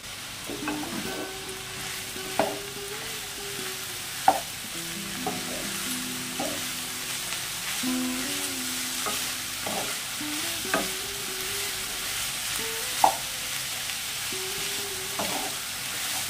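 Salted snake gourd fries uncovered over a high flame in a pan with half a spoon of turmeric. A continuous soft sizzle runs beneath repeated sharp clacks and scrapes of a spatula stirring against the pan, heard close with no talking.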